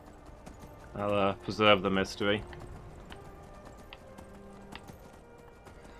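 Horse hooves clip-clopping in Skyrim, a steady run of sharp knocks throughout, briefly sitting under a voice before continuing alone at moderate loudness.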